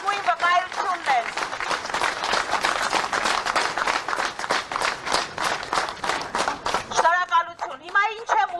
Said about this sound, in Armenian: Բայց այս ծափերը դրանց լավագույն վկայությունն են